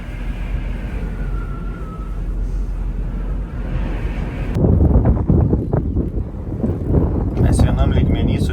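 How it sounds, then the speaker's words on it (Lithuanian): Strong wind buffets the microphone in a steady low roar at altitude near Dalat, Vietnam, growing rougher and louder partway through, with a voice faintly audible underneath. "vėjukas stiprus"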